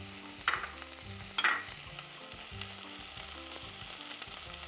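Cut mushrooms and sliced carrots fry in a pan with a steady, crackling sizzle, two sharp bursts of spatter near the start, and soft music running underneath.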